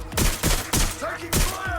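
Loud, booming gunfire in the video game Watch Dogs Legion, with about four heavy shots roughly a third of a second apart, over a dense game soundscape.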